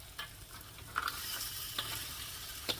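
Mud crab in XO sauce, thickened with corn flour, cooks over high heat with a steady, moderate sizzle and a few light scrapes and clicks of stirring, no talking.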